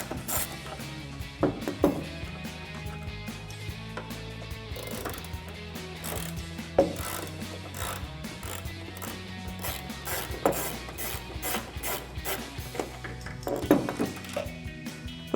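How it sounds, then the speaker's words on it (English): A socket ratchet clicks in steady bursts, close and clear, as a T25 Torx socket backs out the taillight bolts on a 2009-2018 RAM 1500 pickup; pauses separate the runs of ratcheting. "grab a T25 Torx socket and a ratchet"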